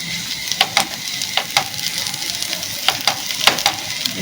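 A smashed vegetable mixture with coriander sizzles in a hot pan while it is mixed, and sharp spoon clicks and scrapes against the pan cut through a steady frying hiss, close and clear.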